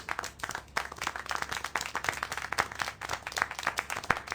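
Rapid, uneven hand clapping from a small group patters at moderate volume in the video game Siberia The World Before, forming a brief burst of applause.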